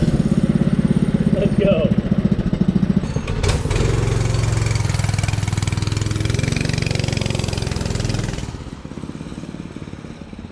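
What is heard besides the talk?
small gasoline engine starting and idling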